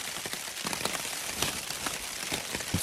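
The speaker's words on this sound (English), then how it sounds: "It's really starting to rain." Steady rain patters on a hammock camping tarp at night, a dense close hiss of drops with scattered louder taps, with no voices.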